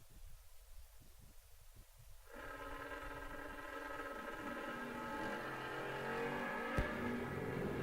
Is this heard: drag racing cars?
yes